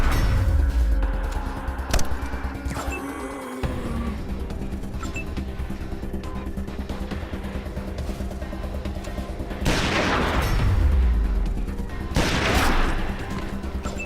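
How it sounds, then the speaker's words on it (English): Gunfire in the video game Wasteland 2, a steady bed of combat noise punctuated by sharp shots and two louder bursts late on, with no talking over it. "Why don't you move up, crouch down, and just start shooting."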